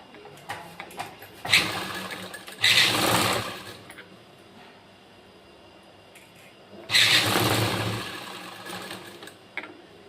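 A sewing machine stitches an embroidered blouse in two short bursts of rapid whirring, with quiet handling noises and clicks in the pauses between runs.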